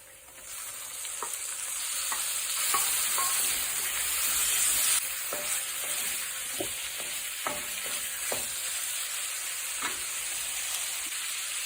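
Chicken or mutton liver (kaleji) sizzling in a hot pan for a spicy masala, a steady loud frying hiss with scattered crackles and pops, close and continuous, no voices.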